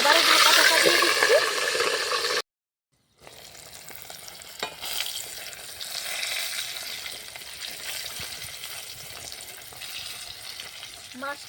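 Fish heads deep-fry in oil in a covered pan, a loud crackling sizzle at first, then after a brief break a quieter, steady spattering hiss with occasional pops.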